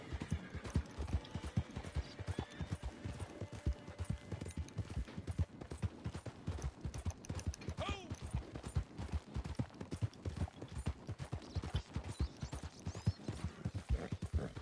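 A horse's hooves clip-clop in steady rhythm in the video game Red Dead, continuous and even throughout with no talk.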